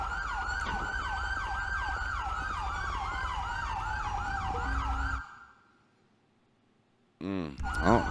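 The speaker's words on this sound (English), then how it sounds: "they gotta shut those sirens off." Police sirens in Grand Theft Auto V with the LSPDFR police mod, wailing loudly and close in a steady repeating rise-and-fall pattern, then cutting out before a siren yelps back in briefly at the end.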